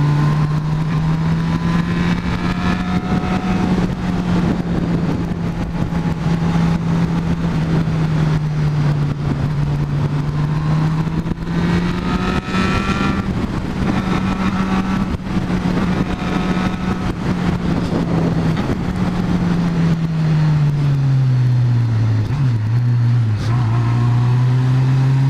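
Car cruising along a highway near Monte Alegre do Sul, a steady loud engine drone holding an even pitch with gentle rises and dips, briefly easing down near the end, no one talking.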